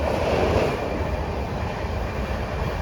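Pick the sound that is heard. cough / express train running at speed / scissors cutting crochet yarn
express train running at speed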